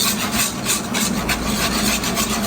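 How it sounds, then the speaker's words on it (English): A whisk scrapes steadily and continuously through clumping caramel in a pan while making salted caramel sauce from scratch, a close, loud, even rasping with no pauses and no talking. "what I am doing is whisking this because I'm trying to break these clumps up"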